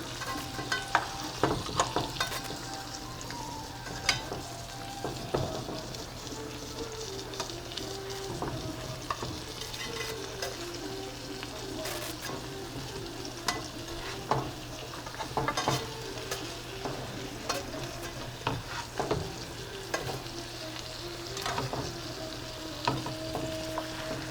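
Cabbage kookoo omelette frying in a pan with a steady sizzle and occasional stirring and scraping clicks throughout, continuous and moderately close with no talking.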